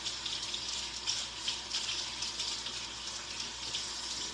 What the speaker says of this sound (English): Let me rinse off these tongs because I'm gonna need these again.